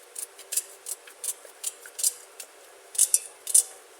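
A knife finely chopping pumpkin on a board in a home kitchen, producing a steady run of short, crisp cutting taps, close and distinct, with a few sharper knocks near the end.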